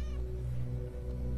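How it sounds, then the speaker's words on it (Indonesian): A cat in a horror film meows once, close and clear, at the very start over a steady low hum that continues to the end. "Ya ampun, kucing."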